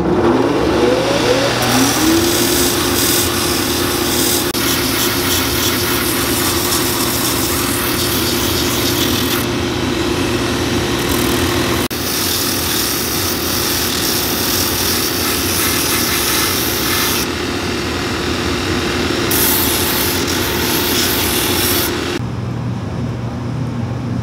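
A power sander grinds down the sole of a pair of Wesco boots in a workshop, a loud continuous motor whine with abrasive rasp that cuts in and out in several long passes, without voices.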